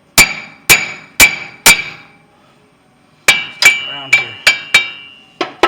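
Sharp metallic hammer blows ring out close by on the front wheel hub of a 2007 Ford F150 with a bad bearing, four evenly spaced strikes, a pause, then a quicker run of blows with a brief word spoken between.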